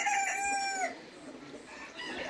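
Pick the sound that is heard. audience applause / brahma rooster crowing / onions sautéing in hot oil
brahma rooster crowing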